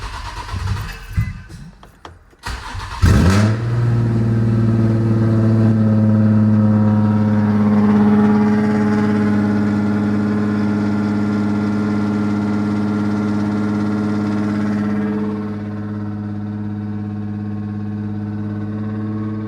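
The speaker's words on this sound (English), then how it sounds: "starting the car with the battery hooked up" A Nissan Z starts after repair work and new coolant. The starter cranks briefly, the engine catches with a loud rev, then settles into a steady, even idle that drops slightly toward the end.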